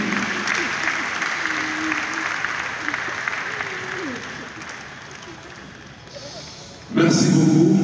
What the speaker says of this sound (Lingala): Acclamons pour l'encourager